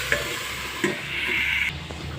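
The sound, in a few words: vegetables being stirred in a pan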